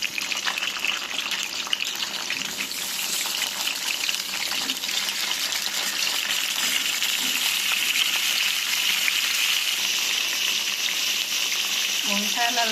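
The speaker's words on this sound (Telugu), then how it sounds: "ఫ్రై చేసుకుందాం" Brinjal pieces frying in oil in a pan for an Andhra-style spicy brinjal curry, a steady, bright sizzle crackling continuously close up, with occasional scraping stirs and a faint knock near the end.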